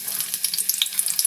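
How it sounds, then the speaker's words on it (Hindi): Onions sliced into long strips sizzle in hot oil in a pan, with a bright, steady crackle and pop that stays close and fairly loud for a brief moment. "अब हम ले लेंगे एक पैन, इसमें डाल देंगे हम ऑयल, फिर डाल देंगे प्याज"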